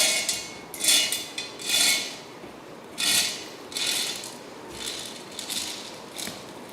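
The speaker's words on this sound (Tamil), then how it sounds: "இப்போ வாங்க நம்ம பொட்டுக்கடலையை அரைச்சி எடுத்துகிட்டு வந்துடலாம்." Mixie jar grinding roasted gram (pottukadalai) to a fine powder for murukku, heard as loud whirring, rattling bursts that start and stop in repeated pulses with brief lulls between.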